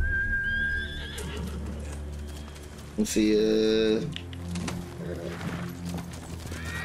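A horse in the samurai game Ghost of Tsushima gives a loud, shrill neigh in the middle, with hooves clopping and other game sounds around it, while someone speaks briefly near the start.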